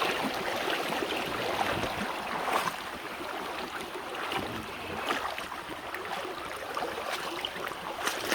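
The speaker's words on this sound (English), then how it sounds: "See the water rushing over this." Creek water rushing over a small drop at Twin Springs Creek, a steady broadband wash of flowing water heard close and continuous without talk.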